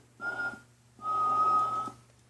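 A Santa figure toy gives two clear whistles, a short one followed by a longer steady tone, close and fairly quiet over a faint hum.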